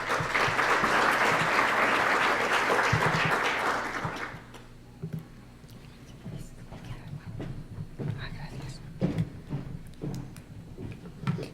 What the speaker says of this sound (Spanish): Recibamos entonces con un fuerte aplauso a María José.